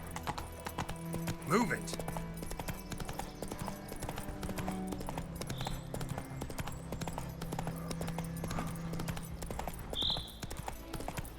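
Roach the horse from The Witcher 3 clip-clops along at a steady walking pace under a man's speech, with a brief whinny and game music in the background.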